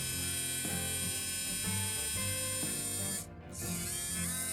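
A small multifunction engraver running at its second speed, a steady close mechanical whir with a faint rhythmic pulsing and one brief dip in the motor sound.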